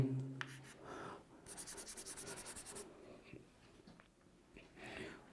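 Marker or chalk strokes on a board during a chemistry lesson on coordinate bonds, with a burst of rapid, rhythmic scratching in the middle and softer writing sounds before and after, close and clear with no talk over it.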